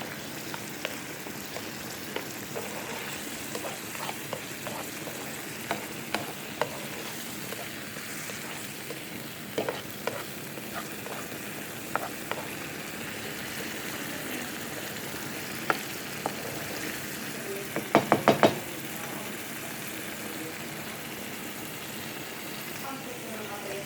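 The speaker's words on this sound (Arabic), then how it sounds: "دابا نخلطو مزيان، خاص هاد المطيشه تشحر مزيان." Tomatoes fry in a pan and are stirred, producing a steady soft sizzle broken by scattered scrapes and clicks from the stirring, with a brief cluster of sharper knocks near the end.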